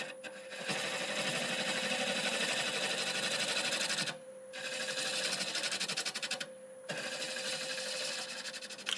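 Mimosa wood spinning on a lathe at about 725 RPM under a 5/8 bowl gouge, a steady close whirring cut in three long passes separated by brief pauses, no talking.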